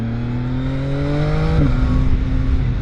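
A CFMOTO 675SR-R sport bike engine holds a steady hum, then shifts and climbs with a rising whir partway through, the pitch settling into a harder, louder drone toward the end.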